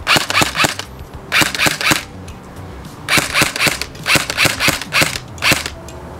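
Tokyo Marui MP5SD6 airsoft gun firing in rapid bursts of sharp clicking shots, three groups of quick snaps separated by short pauses, loud and close, with no talking.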